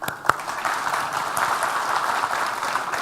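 A conference audience claps after a Ruby programming talk, a dense, steady wash of applause from a crowd, moderately loud with a couple of sharper individual claps at the start, and no voices over it.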